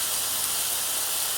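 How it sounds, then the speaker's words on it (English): Pork mince frying in a pan sizzles with a steady, even hiss, close and uninterrupted for a brief moment, with no voices. "now I can hear it starting to sizzle again"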